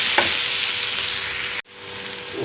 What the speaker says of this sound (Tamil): இப்போ வெங்காயம் வதங்கட்டுங்க.